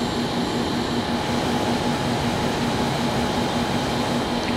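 An airplane coming in to land in Microsoft Flight Simulator, a steady loud broadband engine and air roar with a constant low hum, unbroken throughout with no talking.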